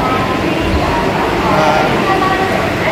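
A Vande Bharat express rolls into Howrah station, heard from inside the coach as a loud, dense rumble of wheels and carriage noise, steady and close throughout.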